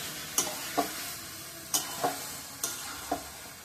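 Chicken and vegetables fry in a pan under a soft continuous sizzle, punctuated by half a dozen crisp, evenly spaced spatula scrapes and taps as the pieces are turned.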